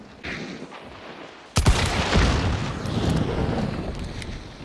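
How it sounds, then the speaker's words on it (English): A single loud, sharp shotgun blast in Hunt: Showdown cuts through a quiet ambient rumble, followed by a long booming decay and rolling reverberation. "Shot a guy in the chest with a fucking shotgun shell."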